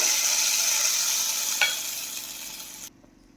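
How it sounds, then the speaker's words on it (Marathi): Hot garlic tempering fried until reddish is poured over a fenugreek curry, a loud bright sizzle that fades gradually and cuts off abruptly near the end, with one brief clink midway. "आता आपण भाजीवरती हा तडका देऊन घेऊया"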